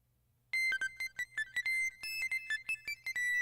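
In the Nintendo Switch game Nurse Love Syndrome, a phone's electronic ringtone starts again after a brief quiet moment, a steady melodic run of chiming beeps that keeps going with no talk over it.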